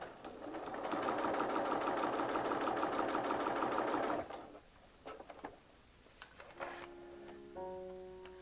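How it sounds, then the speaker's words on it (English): A domestic sewing machine stitches a quilt block in a steady, fast mechanical run for about four seconds, then stops, leaving quieter handling noises and a few electronic beeps. "Sewing time."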